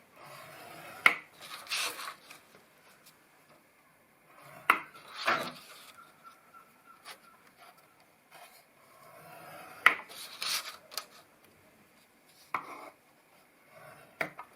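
Paper is scored on a scoring board for a handmade gift box lid, giving faint, sporadic scraping strokes and light taps with quiet gaps between them.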